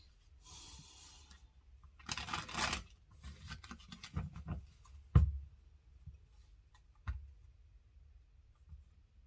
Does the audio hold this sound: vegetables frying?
no